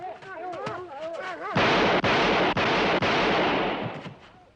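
Guards fire guns at escaping prisoners near marshland: a voice shouts first, then four heavy, booming shots ring out at a steady pace before the noise fades.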